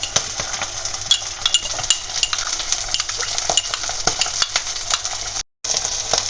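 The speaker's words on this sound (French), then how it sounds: "Donc maintenant on mélange pour qu'elle est bien homogène." Mustard sauce stirred in a frying pan alongside duck breast, a steady loud sizzle with repeated scraping and tapping of a utensil against the pan, close and continuous, briefly cut out near the end.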